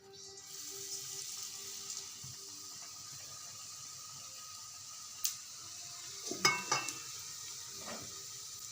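Besan-coated bread pieces frying in oil in a kadhai for pav vada: a soft, even sizzle runs throughout, with a short burst of metal spatula clatter against the pan toward the end.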